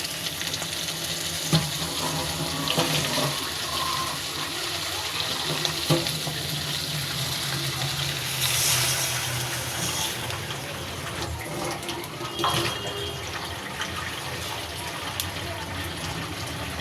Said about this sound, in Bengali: এখন আমি এতে পানি অ্যাড করে দিব।